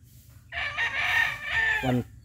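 A white Thompson Kelso gamecock, a champion derby fighting rooster, gives a single loud, close crow lasting over a second and ending in a lower, throaty tail.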